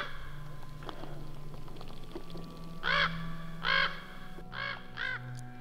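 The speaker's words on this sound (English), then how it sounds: "Just a crow." A crow cawing four times in Pinnacles National Park, California, the harsh calls spaced about a second apart over a quiet outdoor background with faint rustling.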